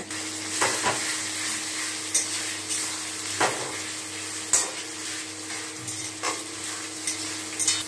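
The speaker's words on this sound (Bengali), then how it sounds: "এবার ভালো করে নাড়ানো হচ্ছে, ভালো করে নাড়িয়ে নেওয়া হচ্ছে মাংসটাতে" Mutton fries in hot mustard oil with crushed whole garam masala in a pan, giving a steady loud sizzle broken every second or so by scraping spoon strokes as the meat is stirred.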